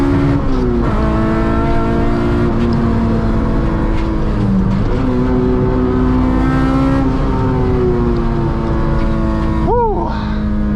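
A K20-powered Honda Integra accelerates hard along a private road from the driver's seat, its engine droning loudly as revs climb, dip at shifts, and climb again, ending in a sharp rising whine.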